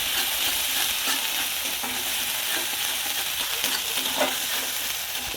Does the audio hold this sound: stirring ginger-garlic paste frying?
yes